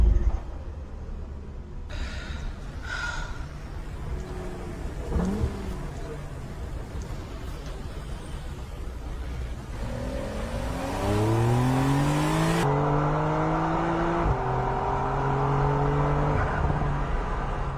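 A car engine revs in an AI-generated clip tied to fuel-efficient stop-start features. Its pitch sweeps repeatedly upward over a steady rushing roar, growing louder toward the end.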